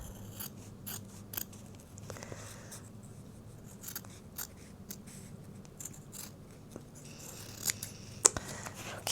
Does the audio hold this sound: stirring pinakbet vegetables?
no